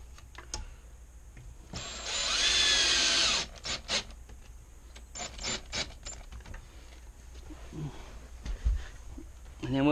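A power drill bores into a wooden bed frame, one loud sustained whining burst followed by several short trigger pulses, with someone talking between the bursts.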